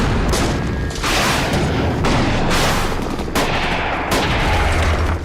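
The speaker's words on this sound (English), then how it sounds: "The first phase of this war was the bombing of Afghanistan." Wartime bombing in Afghanistan: a dense run of loud explosions and crackling gunfire, with several heavy booms at roughly one-second intervals over a continuous roar of fire.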